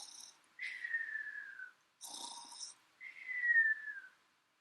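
A voice imitates snoring in short, quiet cycles: a rough breathy inhale followed by a long, falling whistle-like exhale, repeated twice.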